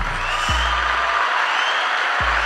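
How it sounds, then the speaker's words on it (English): Applause from a podcast audience after a musical performance: a steady, dense wash of clapping throughout, with low tonal hum and brief musical tones underneath. "Give a round of applause."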